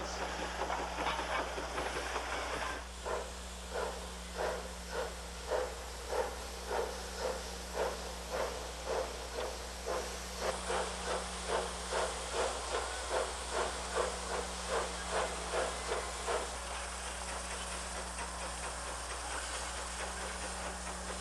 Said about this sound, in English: These trains head out along the Ferrocarriles de Cuba main line to loading points a few miles away